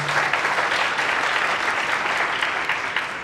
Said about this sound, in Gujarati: જોરદાર તાળી આપો.